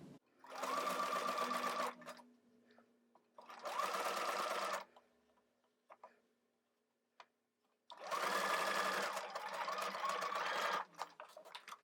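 A sewing machine stitches through thick faux fur fabric in three bursts of fast, buzzing whir, the last one longest, separated by quiet pauses with small clicks and handling noise.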